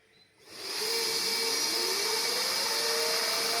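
Four axial micro-compressors, each rated around 90 watts at 100,000 rpm and driven together, spin up from near silence into a loud, steady, drone-like high whine that holds without a break.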